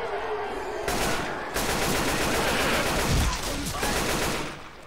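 Gunfire in the video game Top Gun cracks out in rapid, dense bursts of machine-gun fire, loud and close, with brief pauses between volleys.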